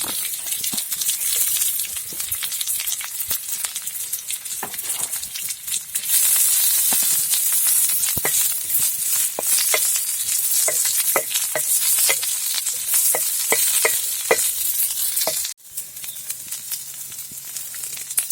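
Garlic and onion frying in hot oil, a dense continuous crackling sizzle with sharp pops and occasional stirring, close and steady, no voices.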